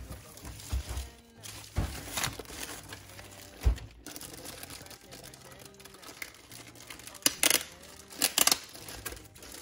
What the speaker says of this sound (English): So I'm going to take the printer out.